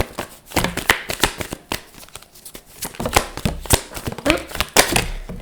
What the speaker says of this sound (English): Cards are flying.